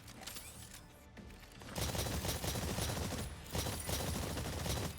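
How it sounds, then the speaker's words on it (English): Video game gunfire aimed at distant targets during a live fire exercise crackles in dense rapid bursts, a continuous volley that swells louder midway, close and sustained with no talking. "Fire on the distant targets."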